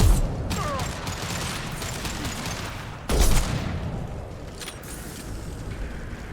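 Gunfire in the video game Mass Effect 2 on Insanity difficulty, a dense continuous battle din with rattling mechanical bursts and a louder blast about halfway through, then steady firing carrying on.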